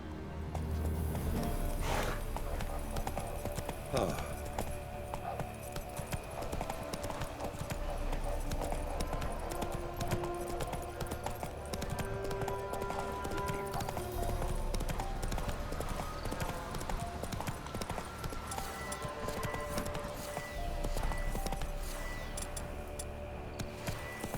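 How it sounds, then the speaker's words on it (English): Horse hooves clip-clop steadily in the Witcher 3 video game, a continuous galloping rhythm under a dense game soundscape with ambient score and effects, near and moderately loud throughout. "Giddy up."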